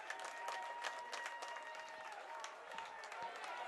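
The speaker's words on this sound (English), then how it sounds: "now the Piedmont crowd coming alive here" Piedmont fans at a high school baseball championship clap and cheer from a distance after a base hit, a faint, steady crowd roar with scattered claps and a commentator talking over it.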